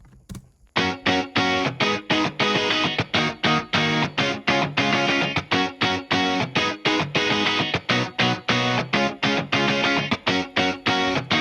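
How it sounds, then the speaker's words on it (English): A saturated, distorted rhythm electric guitar from an indie rock production chugs steady, tightly muted strummed chords in a driving, even pattern, loud and upfront with no voices. "let's play just rhythm guitar"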